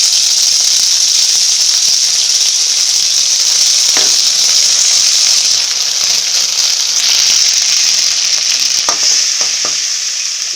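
Ginger garlic paste sizzles steadily in hot oil in a pan for crab gravy, with a continuous bright frying hiss, occasional stirring scrapes and small pops, close and loud, no talking.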